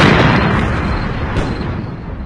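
A loud, close bomb explosion with a broad rumbling roar that starts at full force and slowly trails off, heard alone.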